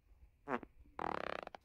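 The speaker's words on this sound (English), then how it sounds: "sometimes the robot will do funny fart sounds" Fart sound effect from a GizmoVine GV110 RC tumble robot toy: a short buzzy burst, a pause, then a longer sputtering, pulsing blat that trails off, fairly quiet and close.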